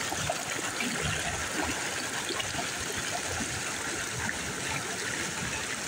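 Steady rushing of a tiered waterfall and flowing stream at Kasipatnam falls, Araku, constant and moderately loud with no voices.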